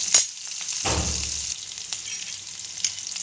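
Capsicum hitting hot oil with spluttered mustard seeds gives a sharp pop, then a loud burst of sizzle that settles into a steady hiss with occasional crackles.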